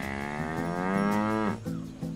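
A water buffalo gives one long, close, loud moo that rises and holds before dropping off, followed by a shorter grunt, with no talking.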